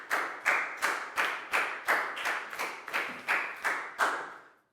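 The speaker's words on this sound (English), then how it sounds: "a big round of applause for Prel," A classroom of Year 4 students clapping for a classmate in a rhythmic unison pattern, about a dozen sharp, evenly spaced claps close by, ending abruptly.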